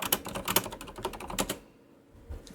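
Rapid, close-up computer keyboard typing during a typing test, a dense burst of crisp key clicks for about a second and a half, then near silence with one last faint tap.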